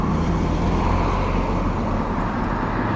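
A car overtakes road cyclists near a junction, its engine and tyre noise forming a steady, fairly loud rumble with wind roar over the whole stretch.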